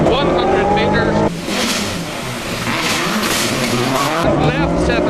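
Rally car revving hard and hand-braking through a square right-hander on damp, slippery roads under trees at the 2003 Lurgan Park Rally, engine roaring and rising with tyre noise, a commentator talking over it.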